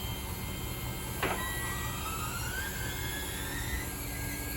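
A powered fold mechanism on a Dart lift runs with a steady whirring motor hum and a faint rising whine, with one short click near the start, continuous and close.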